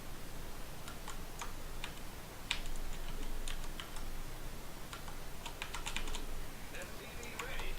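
Computer keyboard keys are tapped in quick irregular bursts of clicks while setting camera hotkeys in StarCraft 2, light and close over a faint background hiss.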